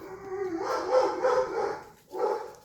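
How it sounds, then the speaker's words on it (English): A dog barks from indoors in a few drawn-out, moderately loud woofs with a whiny edge, followed after a short pause by one more bark. "Sorry, my dog's a dick. It's probably barking at a squirrel."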